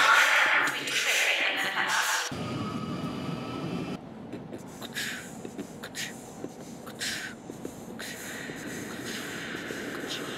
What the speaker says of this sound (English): The next train to arrive at platform 2 will be to Kennington via Charing Cross.